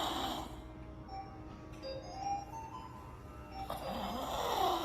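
A patient snores during a sleep endoscopy examination, a low rattling breath that rises and swells through the clip, heard fairly faint over steady background hum.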